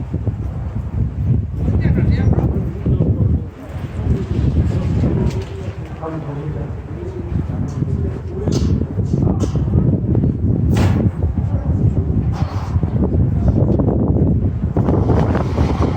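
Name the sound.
strong wind blowing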